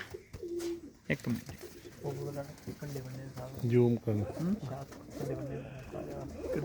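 Pigeons cooing in low, repeated rolling calls close by, with people talking briefly over them.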